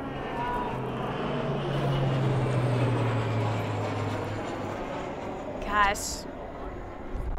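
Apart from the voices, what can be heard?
low-flying airplane passing overhead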